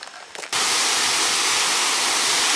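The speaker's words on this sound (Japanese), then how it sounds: "いやー、この水の音はよろしいですな。" Rushing water pours steadily and loudly at Asuka Village in Nara, starting abruptly after a brief quieter moment and continuing as a dense, constant broadband roar close by.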